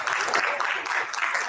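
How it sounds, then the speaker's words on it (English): At a leadership summit, an audience gives a round of applause, a steady wash of clapping that holds at a moderate level throughout. "I think that absolutely deserves a very big round of applause."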